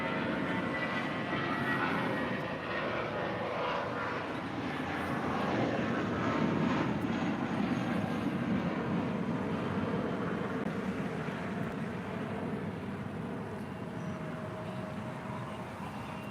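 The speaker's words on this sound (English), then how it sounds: "Next departure is American Airlines Flight 2961 heading to Phoenix, Arizona. It's an A320 originally with America West" An American Airlines Airbus A320, delivered in 1998 and first flown by America West, departs LAX with a steady, broad jet roar that holds at an even, moderate loudness with no one talking.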